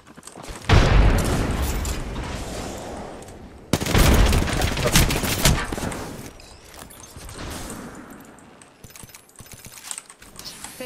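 A frag grenade goes off in a video game with a heavy boom, and bursts of gunfire follow. A second loud blast comes a few seconds later, then scattered shots and clicks trail off.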